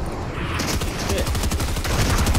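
A gold SMG fires in Fortnite, loud and close, in quick, dense bursts that run almost nonstop as clipped shots pile up on each other.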